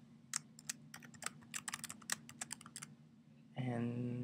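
Keystrokes on a computer keyboard while typing text into a Keynote slide, a quick irregular run of close, crisp clicks over a low steady hum, ending in a louder sustained tone.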